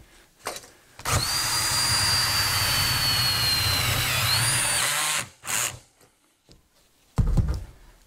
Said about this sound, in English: drill and tap screw in here.